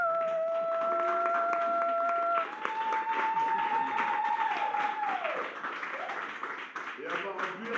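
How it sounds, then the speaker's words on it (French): Wedding guests at a town hall ceremony applaud the witnesses, a moderate round of clapping that builds after a sustained tone, with a voice speaking over it as the applause tapers off. "Vous pouvez les applaudir, c'est vraiment pas facile."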